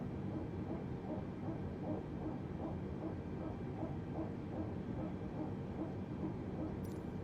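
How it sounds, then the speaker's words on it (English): An airliner's hydraulic pump at engine start in Microsoft Flight Simulator drones steadily, with a soft rhythmic pulsing squeak repeating several times a second throughout. "It is the thing what powers the hydraulic system. And it squeaks."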